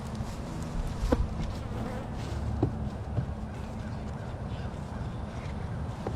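Honey bees drone around a grumpy, defensive hive in a steady buzzing hum, with a few brief louder passes close by and a couple of distant bird calls.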